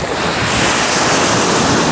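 Sea waves break and wash around someone wading in the cold sea, a loud continuous surf roar mixed with buffeting wind on the microphone.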